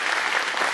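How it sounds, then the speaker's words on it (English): An audience at an after-prom hypnotist show in St. John, Kansas claps steadily in dense, sustained applause, loud and close throughout. "One more round of applause for them."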